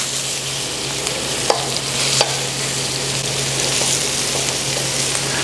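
Short ribs brown in a hot pan with a steady, close sizzle, broken by a few sharp knocks as the meat is turned and stood on its sides.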